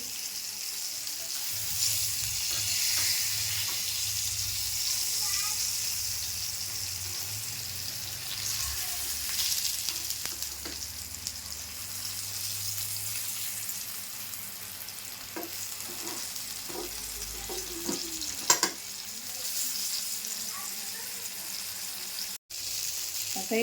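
Fish frying in a pan for a Malvani-style fish curry, continuous close sizzling and spattering oil with occasional scraping and turning sounds as the pieces are flipped, steady throughout.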